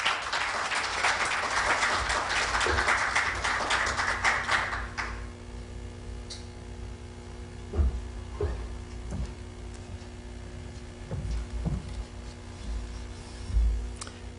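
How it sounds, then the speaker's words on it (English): An audience at a business school deans' summit in a conference hall applauds a professor taking the stage, a full, close round of clapping for about five seconds that fades, followed by quieter room noise, footsteps and scattered taps. "Please welcome him with a round of applause."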